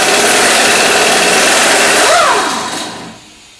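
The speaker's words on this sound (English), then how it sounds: "you just hold your wrench right here and shoot it off with the air gun" An air impact gun spins a sway bar link nut off a 2007 Dodge Ram 1500, a loud close whirring burst that holds for about two seconds, wavers in pitch, then winds down and fades.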